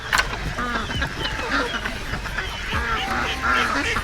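Ducks on a farm in Canada quack and honk continuously, several birds calling close together in a loud, busy chorus.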